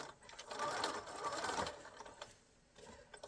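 A sewing machine stitches adhesive-backed binding onto a square-cornered art quilt, a steady whirring run that rises through the middle, pauses briefly, then restarts in short bursts, close and alone.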